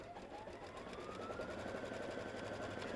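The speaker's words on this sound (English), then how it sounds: "So press some buttons, and it's going to stitch down that fabric." Sewing machine running steadily as it stitches down solid quilt fabric, a continuous close mechanical whir with a rising tone, alone without talk.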